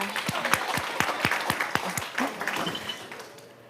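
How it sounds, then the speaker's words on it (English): Scattered audience applause at a school district board meeting: several distinct, sharp claps at first, thickening briefly into a small round of clapping before fading out. "Yeah, y'all can cheer"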